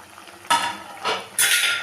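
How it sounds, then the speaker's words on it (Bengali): Fried brinjal being stirred into a fish curry in a pot, three separate scraping, clattering bursts of utensil against metal, fairly close, with quiet gaps between and no talking. "দিয়ে বেগুনটাকেও ভালো করে মিশিয়ে দেবো"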